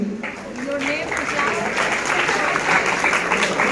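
Applause from a school class follows a recitation of the preamble of the Constitution, with many hands clapping steadily at close range and voices over the clapping.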